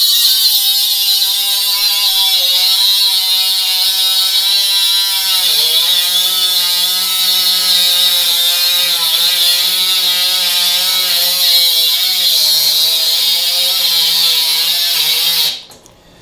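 A power saw with a Titanium plasma-and-MIG setup cuts under light pressure with a loud, steady, high whine. The pitch wavers slightly throughout the pass, then the sound drops off abruptly at the end.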